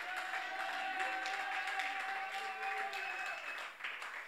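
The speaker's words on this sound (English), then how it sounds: "Let's clap our hands unto the Lord." Congregation at a church prayer meeting claps hands together, a soft steady patter of many hands under sustained voices or tones, fairly distant and faint, easing off near the end.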